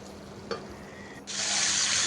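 Fried potatoes tossed with spices in a pan give a soft stirring scrape and a brief clink, then a loud, steady sizzle takes over for the last stretch.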